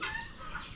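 Chickens cluck at a poultry farm, a short, fairly quiet run of overlapping hen calls with no talk over them.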